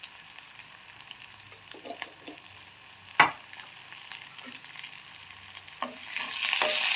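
Onion frying in a pan as part of a soya meat curry, a steady sizzle with scattered stirring scrapes, one sharp clatter near the middle and a louder hiss surging at the end; no talking.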